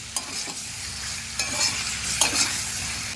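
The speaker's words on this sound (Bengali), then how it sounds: "ভেজে রাখা ফুলকপি আর আলু খুব সুন্দরভাবে কষে নিয়েছি" Cauliflower and potatoes stir-fry in spiced oil with a continuous sizzle, broken by a few firm spatula scrapes and knocks against the pan.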